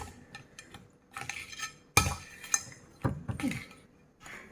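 Thai spicy seafood salad being stirred in a bowl, with a run of clinks and scrapes of a utensil against the dish in irregular bursts, close and fairly quiet.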